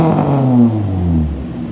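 Toyota Sienta engine revving through a Mugen double-pipe exhaust, a deep steady throaty drone that rises briefly then eases back, close and loud with no talking.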